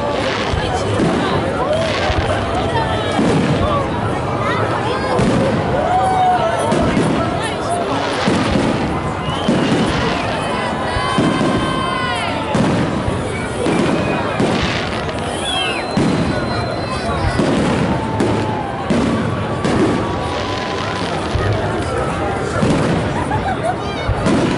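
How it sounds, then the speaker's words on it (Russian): A Victory Day fireworks salute in Taganrog thunders with repeated booming bursts and crackles over a murmuring crowd, with voices heard throughout. "Салют в честь Дня Победы."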